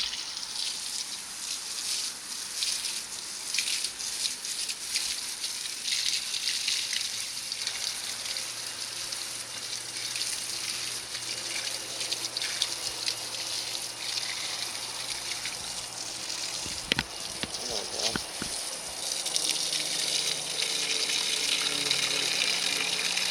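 Water runs steadily while garden plants are watered, a continuous soft hiss and trickle lasting throughout, moderately near, with a brief splashy surge near the end.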